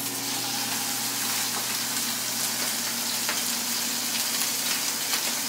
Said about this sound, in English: Once it starts smoky, you go ahead and place your pork chops into the pan.